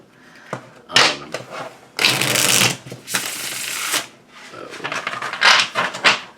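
Brisk tarot card shuffling in several bursts, close and crisp, with short pauses of quiet handling between riffles.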